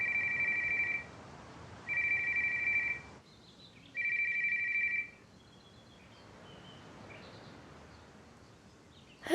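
A telephone rings in a dubbed drama scene, three steady electronic trills each about a second long with gaps between, clear and fairly loud, then quiet room tone and a brief click at the end; no one speaks.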